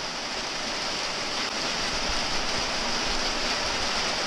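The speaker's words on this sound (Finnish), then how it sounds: "Täällähän sataa saatana räntää!" Sleet falls steadily outdoors in cold wet weather, a dense continuous hiss with no break across the whole stretch, close and even in level.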